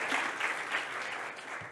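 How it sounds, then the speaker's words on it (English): Conference audience at a health tech startup pitch event clapping for a presenter, a short, moderately faint burst of steady applause. "Round of applause for Bart Geertz."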